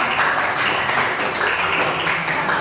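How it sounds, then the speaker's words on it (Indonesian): A school class claps together during a civics lesson, giving a dense, even burst of hand claps that holds steady for a couple of seconds. "Ini tepuk tangan bersama."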